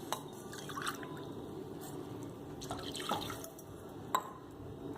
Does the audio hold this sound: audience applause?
no